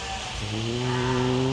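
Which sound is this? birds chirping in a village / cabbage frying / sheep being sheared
sheep being sheared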